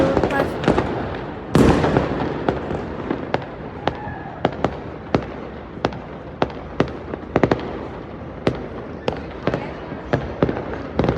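New Year fireworks burst in a long series of sharp bangs, one big near blast followed by many quicker pops at an irregular rhythm against a background hiss, with faint voices at times.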